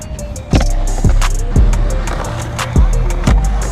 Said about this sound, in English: That's me hitting the wall ride today